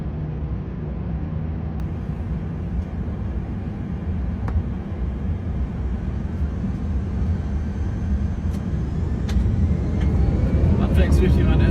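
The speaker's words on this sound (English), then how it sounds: "the takeoff in original sound, original speed." An Airbus A340 on its takeoff roll on runway 25 center, engines at thrust: a loud, continuous cabin roar and rumble that slowly builds in strength, with faint rattles toward the end.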